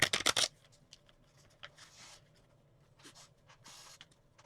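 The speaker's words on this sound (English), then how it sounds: "Now we do have to shuffle them up" Playing cards for an APBA Soccer tabletop game are riffled in a loud, quick burst of three or four rapid shuffles at the very start, followed by a quiet room with faint scattered rustles and soft card handling.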